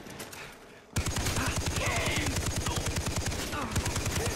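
Rapid automatic gunfire in the Far Cry 3 video game, a dense, loud burst of evenly spaced shots that starts abruptly after a quieter moment and keeps hammering without letup.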